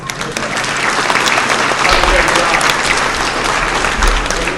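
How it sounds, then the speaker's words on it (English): An audience at a school Memorial Day service applauds loudly and steadily, dense clapping filling the whole stretch without pause. "I think you guys need a round of applause for that."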